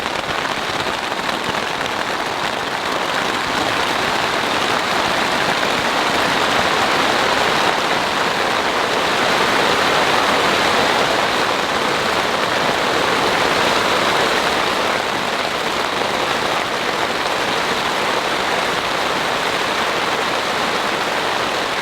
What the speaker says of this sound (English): As you all can hear, the rain continues.